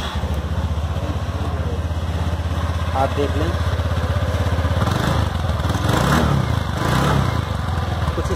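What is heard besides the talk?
125cc scooter engine starting and idling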